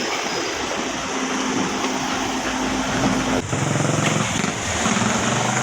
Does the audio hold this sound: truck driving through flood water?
yes